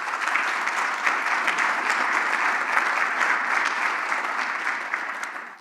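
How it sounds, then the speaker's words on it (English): Applause for sponsors and partners at a Chamber of Commerce breakfast event: a dense, steady round of clapping from a large audience, sustained and fairly loud before tapering slightly at the end. "So please, a round of applause for our generous sponsors and partners."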